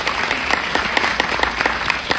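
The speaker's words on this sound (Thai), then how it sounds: "อยากจะขอเสียงปรบมือให้กับศูนย์ทนายครับ" A crowd at a political gathering claps for a group of human rights lawyers, a steady, fairly loud patter of many hands with scattered sharper individual claps standing out, continuing without talk.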